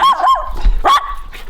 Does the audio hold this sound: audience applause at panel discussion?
no